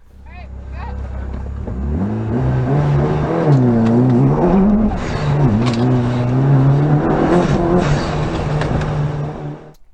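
Turbocharged Mitsubishi Lancer Evo engine revving to mid-range before an autocross launch, a loud steady drone rising and falling over several seconds with revs swelling and easing, close and continuous.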